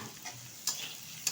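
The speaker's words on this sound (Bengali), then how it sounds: "এবার সময় নিয়ে একটু মিডিয়াম আঁচে ভেজে নেব" Cauliflower stems frying in a pan over medium heat give a soft, steady sizzle, with two brief brighter crackles standing out; no voices.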